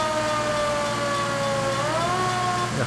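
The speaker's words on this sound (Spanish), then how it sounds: "Mira, al menos tiene sirena," A fire truck siren from a video game wails steadily and loudly throughout, with a held tone that bends upward near the end, alone and with no talk over it.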